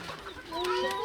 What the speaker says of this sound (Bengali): আমার এখানে হচ্ছে গিয়ে দেশি মুরগির বাচ্চা, এটার বয়স 12 দিন হবে।